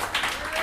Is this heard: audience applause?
yes